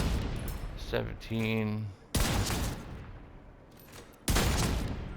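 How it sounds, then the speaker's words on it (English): Regulus exotic pistol firing in The Division 2, two heavy, loud single shots with booming, slowly decaying tails, spaced a couple of seconds apart, with a voice heard briefly before the first shot. "The gun sounds like a fucking 357 Magnum"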